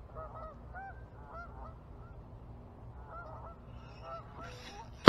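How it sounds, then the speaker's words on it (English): Geese honk repeatedly near a pond, a cluster of nasal calls at moderate distance over a low background rumble, ending with a sharp loud knock. "Fucking honkers."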